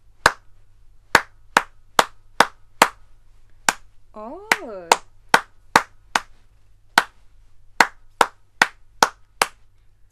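Hands clap out a rhythm exercise in a grade 4 music lesson, sharp close claps in uneven groups with short pauses, and a brief sung or hummed note in the middle.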